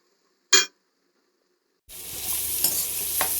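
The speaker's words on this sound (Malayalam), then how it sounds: "ഉള്ളി ഒന്ന് വഴന്നു വരണം." Onions sautéing in a pan, one short scrape or clink early, then a steady broad sizzle with occasional stirring scrapes, moderately loud and close, no talking.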